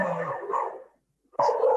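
A dog barks a few times at close range in an indoor setting during a literary awards event, short bursts separated by a brief silence, with no talking over it.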